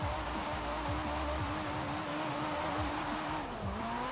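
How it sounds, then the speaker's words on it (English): A 2013 Toyota GT86 in Forza Horizon 4, its engine buzzing hard against the rev limiter in stuttering bursts with a gear change, plus a brief tire squeal, loud and continuous with no talk. "You can see that we're hitting the rev limiter a lot."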